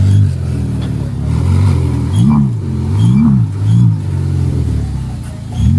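A Ferrari's engine hums and rises in short revving swells while the car reverses into a parking spot, loud and close, with a brief word spoken.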